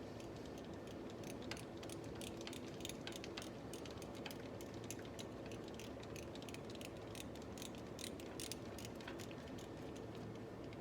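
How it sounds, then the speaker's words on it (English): Ratchet working loose a bolt on the starter of a 2010 Sebring, a faint rapid clicking of the pawl repeated steadily over a low background hum, close but quiet. "Going with a ratchet. Get that loosened off."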